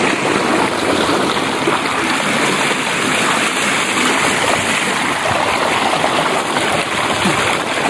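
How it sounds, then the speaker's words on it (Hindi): Water gushes from a borewell pump pipe in a village, a loud, steady rushing flow that fills the scene without pause and with no talk over it. "अभी बोर चल चुका है। हाँ ये देखें, ये पानी आ चुका है।"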